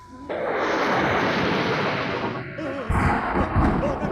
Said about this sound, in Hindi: गरजना शुरू हो गया।